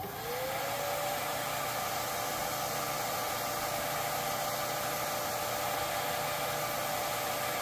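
A heat gun on a low setting blows over freshly airbrushed paint on a fishing lure, a constant close-up whooshing hiss with a thin motor whine that holds steady throughout.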